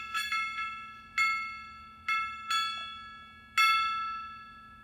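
A gong-like metallic instrument from a recording is struck about five times at irregular intervals, each bright ringing hit decaying quickly, with no talk over it.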